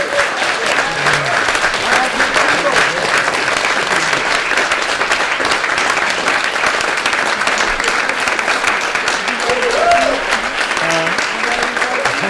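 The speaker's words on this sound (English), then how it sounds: "Let's have another round of applause for them." Applause for artists at a People's Assembly gathering, a dense, loud, sustained clapping from a crowd that holds steady throughout, with scattered voices underneath.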